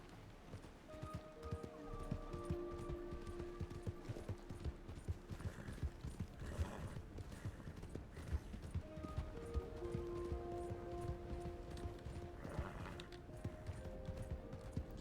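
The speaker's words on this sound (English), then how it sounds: "Sounds like thundering horses." Horses gallop in a ranch roleplay video game, their hoofbeats a steady, fairly close clatter that runs the whole way through over soft sustained musical tones.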